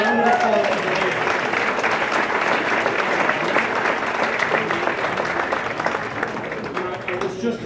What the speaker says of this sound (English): A round of applause for the ladies.